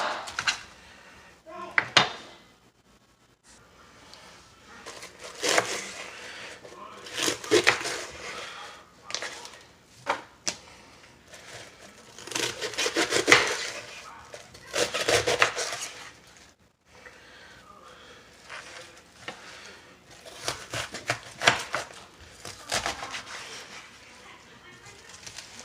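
A knife halves a head of regular cabbage in a home kitchen, giving several sharp chopping knocks against a cutting board, scattered among pauses while a person talks.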